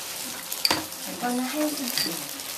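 Red kimchi seasoning paste being worked by hand in a Seoul kitchen: wet squelching and scraping strokes with a sharp knock early on, a few faint clinks and a low murmur of voices in the background.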